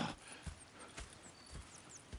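Horses in the video game Red Dead Redemption 2, giving a few soft hoof clops and snorting breaths close by, quiet and unhurried, with no talking.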